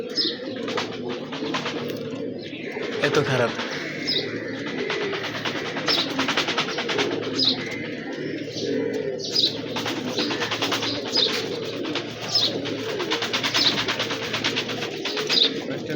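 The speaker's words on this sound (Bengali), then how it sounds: "কবুতর ফ্লাই করতেছে আমাদের সামনে" A flock of pigeons coos continuously in a low, rolling chorus while wings flutter and flap nearby, with a person speaking briefly over the steady birds.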